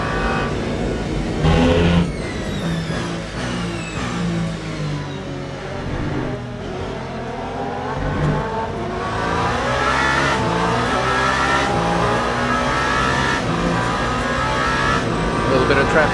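LMP2 prototype race cars in the video game Le Mans Ultimate during the 24 Hours of Le Mans, engines revving and shifting loudly through the Dunlop curves toward Tertre Rouge, with a commentator talking over the continuous engine sound.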